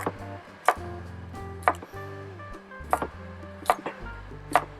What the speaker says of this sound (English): we just want to start cutting these in about 1/4 inch thick slices